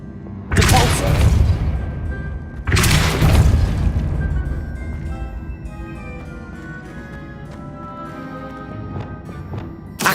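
Depulso spell cast in Hogwarts Legacy: two loud, close whooshing bursts a couple of seconds apart, each with a booming thud, then a decaying ringing tail and quieter ambience.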